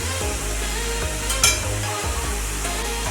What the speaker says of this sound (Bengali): তেলটা গরম হয়ে গেছে, এর মধ্যে দিয়ে দেবো গোটা জিরে আর গোটা গরম মশলা।